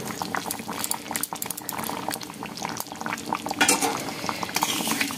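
Chicken curry bubbles in a pot during cooking, a close, steady burble of boiling liquid with occasional clinks of a utensil against the pot, no voices.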